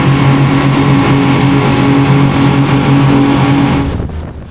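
Loud boat driven by four engines, a steady dense motor drone with strong harmonic hum, continuous and close, dropping off abruptly at the very end.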